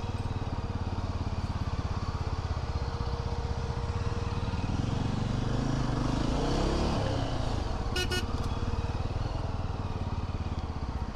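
Heavy road traffic near Guna cave in Kodaikanal is heard from a Yezdi Adventure motorcycle, its engine droning loudly and constantly, with a brief horn toot near the end.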